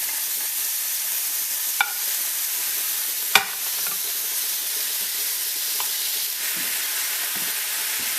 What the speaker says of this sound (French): Alors, on va ajouter, on les tasse sur le côté, puis on va ajouter notre bœuf.